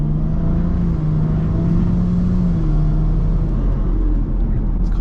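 A car fitted with a valvetronic exhaust idles and rolls with a steady low rumble and faint engine drone, fairly loud and close, with no one talking.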